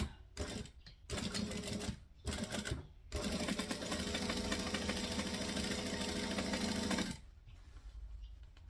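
A sewing machine stitches fabric in short start-stop bursts, then runs steadily for about four seconds before stopping. It is close and fairly loud, with no talking.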